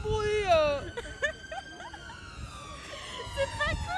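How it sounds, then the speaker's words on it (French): An ambulance siren wails along a busy London street near Big Ben, its rising and falling tones loud and close at first, then continuing past, with traffic noise and people talking nearby. "il y a l'ambulance"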